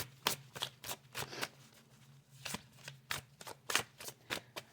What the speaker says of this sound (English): So I overhand shuffle.